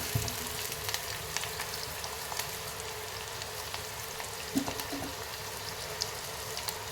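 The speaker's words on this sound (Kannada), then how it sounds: "ಇವು ಸ್ವಲ್ಪ ಎಣ್ಣೆಯಲ್ಲಿ ಫ್ರೈ ಆಗಲಿ ಉಳ್ಳಾಗಡ್ಡೆ" Onions fry in oil for a beetroot palya, giving a steady, moderate sizzling crackle with a few light clinks, continuous and without voices.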